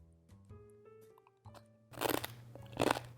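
Close crunching and chewing of crisp chips while tasting an oil-free vegan nacho cheese sauce, a few loud bites after a quiet moment.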